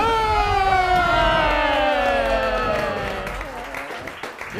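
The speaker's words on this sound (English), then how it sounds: "Your tale is followed by warm applause and cheers from the table of Kreeg." Warm applause and cheering from a small group gathered around a table, a dense swell of clapping and voices with a ringing tonal layer, sustained and then fading toward the end.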